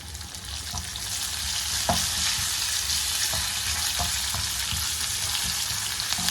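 Onion and fresh curry leaves stir-fry in hot oil with hing powder in the pan, a close steady sizzle broken by several scraping stirs of a spatula.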